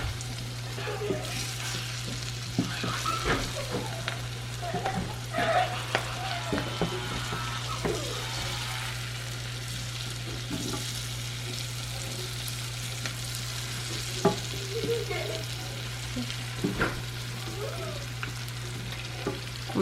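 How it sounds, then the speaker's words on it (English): Onions cut into big rings frying in browned butter in a pan, a steady crackling sizzle with occasional sharper pops and stirring noises, close and continuous over a low steady hum, with no talking. "I kind of brown the butter a little bit in there. And I'm gonna add all the onions."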